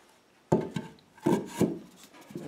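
Wooden stretcher tenon pushed into a mortise in a farmhouse table leg, giving a few dull knocks and short rubbing scrapes of wood on wood, close up with no talking.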